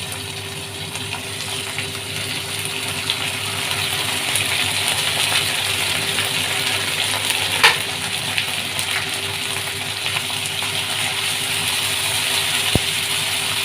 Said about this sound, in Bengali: ভালো করে ভাজতে লাগলাম।